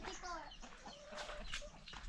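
Chickens and chicks cluck and peep in a quiet farmyard, soft, faint calls overlapping one another.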